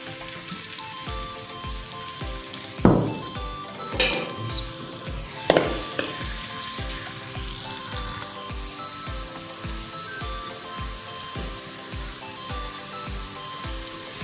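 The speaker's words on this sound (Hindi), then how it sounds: "हम घी डाल देते हैं। सारा घी नहीं डालते। दूसरे नंबर पर प्याज को कर देते हैं ब्राउन।" Onions fry in ghee in a pan for a chicken handi, with a steady close sizzle and crackle throughout and a few louder stirring scrapes early on, no talking.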